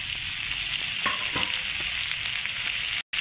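Chopped ridge gourd tossed into browned fried onions in a pan, a continuous close frying sizzle with a couple of brief stirring scrapes, no voices.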